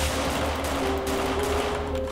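Rapid gunfire rings out in a Roblox Hood RP gang war between Bloods and Crips, a dense continuous burst of shots layered with game noise and a tonal hum, loud and unbroken over two seconds.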